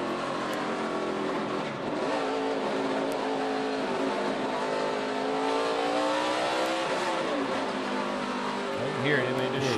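NASCAR race car engines at the 2012 Tums Fast Relief 500, a loud sustained roar with harmonic whine sweeping up and down as cars pass on track, mixed with crowd and commentary noise.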